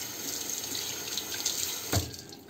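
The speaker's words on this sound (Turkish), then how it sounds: "Şimdi bir daha yıkayacağım." Tap water runs steadily into a sink as a burnt kettle is rinsed, a continuous close splashing rush with a brief heavier splash near the end.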